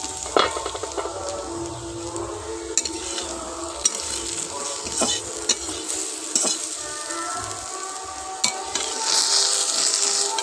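Pieces of taro shallow frying in a pan give off a steady, close sizzle for the whole stretch, broken by occasional spatula scrapes and clinks, rising to a louder hiss toward the end.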